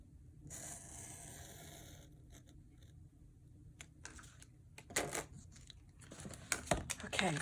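Paper is cut for an altered-book junk journal. Scissors snip and paper rustles in quiet, irregular bursts that grow busier and louder toward the end.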